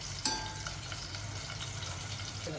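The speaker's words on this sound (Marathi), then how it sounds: "मीठ लावून ठेवलेले कारले आपण असे तळून काढतो" Salted bitter gourd (karela) slices frying in a kadai of hot oil, a soft steady sizzle near and low in level, with a brief clink at the start and no talking.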